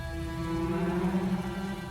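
Quiet, steady rain falls beneath a sustained low musical drone with layered tones, forming a continuous and even backdrop.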